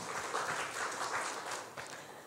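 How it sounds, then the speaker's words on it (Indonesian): Brief, fairly faint applause from a church congregation during a sermon, a soft wash of clapping heard from a distance. "Beri tepuk tangan untuk Tuhan"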